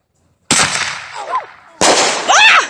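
A small firework mortar at a family fireworks outing goes off with two sharp, loud bangs a little over a second apart, each trailing into crackling. Voices shriek and cry out right after each blast.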